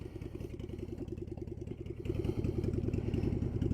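Honda Shadow 750 Aero motorcycle with extended forks idling and pulling away, a steady mid-pitched V-twin chug with rapid regular pulses that swells louder about halfway through as the bike gets moving.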